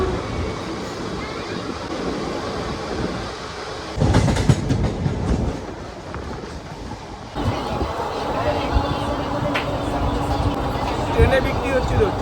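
A train pulls out of Uluberia station, rumbling and clattering steadily over the rails at close range, with a louder surge partway through and a busy carriage hum throughout.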